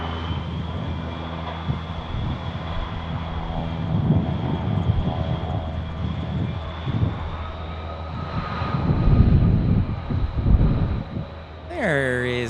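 A Frontier Airlines airliner passes overhead at Tucson airport, a steady engine drone swelling and fading with a rising whine near the end, while people talk nearby.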